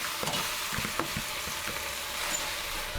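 Chopped bok choy hitting a hot pot over a low flame, a continuous close sizzle with a few soft scrapes and taps of a utensil, no voices.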